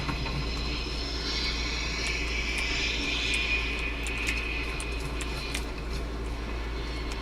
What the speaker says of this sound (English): It sounds like a jet's up there.